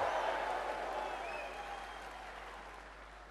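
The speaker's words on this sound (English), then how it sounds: "Clap your hands, all you lions," An audience at a leadership talk in Fiji claps together in a broad, even wave of applause that gradually softens, heard from within the hall with light voices mixed in.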